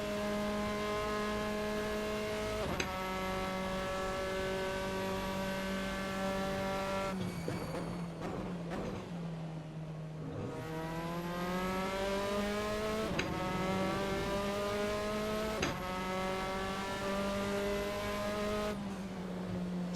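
Formula 4 race cars scream around Monza in Assetto Corsa, one engine holding a loud, steady high-revving whine, dropping through quick gear changes, then climbing again, with brief tire scrubs between.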